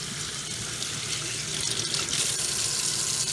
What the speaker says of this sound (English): it's pulling that water inside the carb just fine from right there